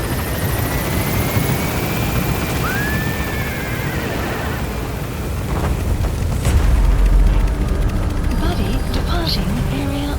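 A helicopter in Metal Gear Solid V gains altitude, its rotor and engine roaring steadily and loudly with a rising whine, a deep rumbling swell partway through, and a radio voice speaking over it.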